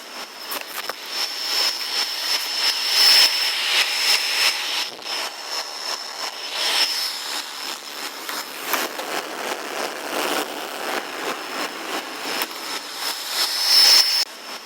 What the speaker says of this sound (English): Then we have this fan noise